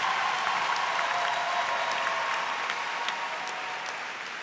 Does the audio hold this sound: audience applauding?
yes